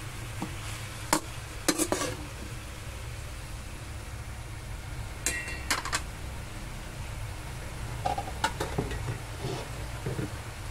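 Vegetables frying in oil for pork kare kare get stirred: a steady hiss of sizzling under repeated scraping, clattering strokes of a utensil against the pan, arriving in bursts with pauses between.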